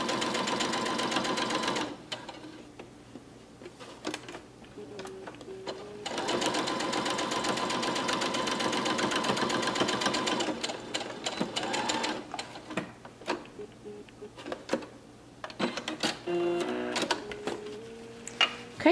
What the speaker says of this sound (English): once we sew, we're gonna go ahead and stitch